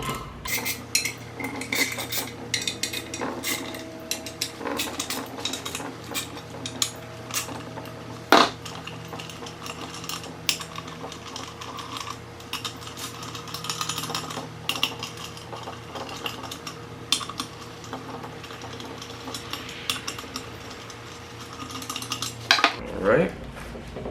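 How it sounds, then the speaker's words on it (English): Metal bolts being unscrewed from the pressure plate of an Action Clutch twin-disk clutch, giving steady scattered clinks and light metallic rattles close by, with a sharper clank near the middle and another near the end. "I'm just going to go ahead and take these pressure plate bolts off."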